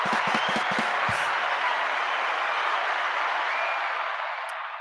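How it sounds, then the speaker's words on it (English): Sustained crowd applause, a dense even wash of clapping that begins with a few sharp low thumps and then holds steady at a fair distance before easing slightly at the close. "I'm going to give you applause."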